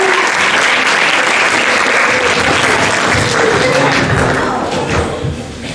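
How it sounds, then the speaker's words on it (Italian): Sustained applause from a school audience for a group of girls after a performance at a school show, loud and dense throughout, thinning slightly toward the end. "un altro applauso a queste ragazze"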